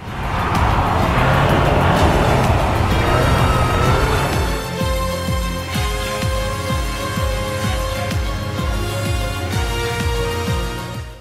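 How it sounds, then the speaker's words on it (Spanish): A Volkswagen Golf R with 4Motion all-wheel drive, a 7-speed DSG and an Akrapovic exhaust roars on a frozen lake in Sweden, its loud engine note rising and holding close by with no talk over it. "estos formidables escapes Akrapovic que tienen un sonido realmente espectacular"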